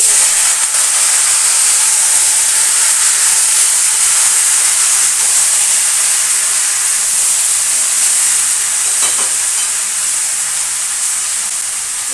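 Whole spices dropped into hot oil for a tempering that will season a vegetable curry, producing a loud, continuous hiss that holds steady for the whole stretch and eases slightly near the end, close up with no speech.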